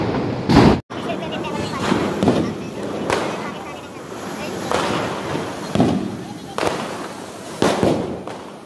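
Diwali fireworks and firecrackers go off in repeated sharp bangs every second or so, fairly close, over a steady outdoor rumble with voices chatting in the background.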